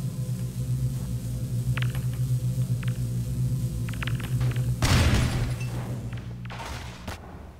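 Grenade blasts in the Half-Life 2 game, a loud broadband boom around five seconds followed by a second burst near seven seconds, over a steady low game hum with a few faint clicks earlier.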